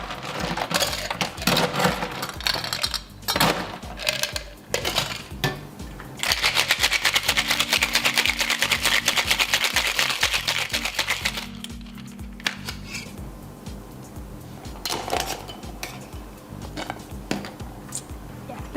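An amaretto sour cocktail shaken hard with ice in a shaker, a steady loud rattling of ice cubes churning for several seconds, with no talking.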